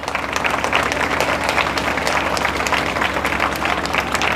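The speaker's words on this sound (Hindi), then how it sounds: "मैं इनके लिए जोरदार तालियां चाहूँगा" An audience at a school event claps together in a dense, sustained wash of applause that stays loud and steady throughout, with a faint murmur of crowd voices mixed in.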